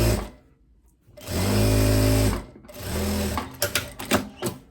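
A sewing machine stitches a straight seam on a kimono in two close, steady runs, with a short pause between them and a few light clicks at the end.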